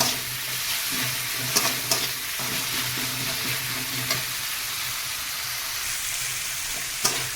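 Onion, ginger, garlic and chili sizzle steadily in hot oil in a home kitchen for a tilapia fish curry, with occasional sharp stirring scrapes and clinks against the pan, close and continuous.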